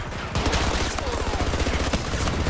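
Rapid automatic fire from a P90 submachine gun in the shooter game Battlefield 2042, a loud, continuous stream of close shots lasting the whole stretch, with dense overlapping gunfire textures and no clear pauses.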